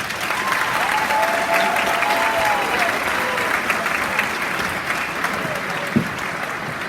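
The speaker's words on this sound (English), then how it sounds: "Let's give a round of applause." A crowd claps steadily through a high school graduation ceremony for the class of 2025, sustained applause with a few cheers and whistles rising above it, holding level to the end.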